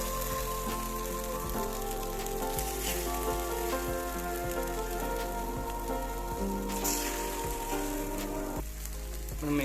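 Red banana paniyaram sizzle steadily as they fry in a pan, a dense, continuous crackle with no talking over it.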